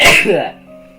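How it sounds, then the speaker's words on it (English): A single sharp, loud sneeze bursts out at the start, then trails off into a quieter tail. "I'd sneeze."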